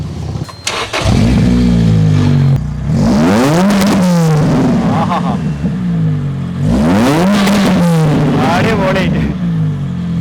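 A Lotus Elise sports car engine revs hard several times, rising and falling in loud, close sweeps over a steady idle, with a voice briefly at the start.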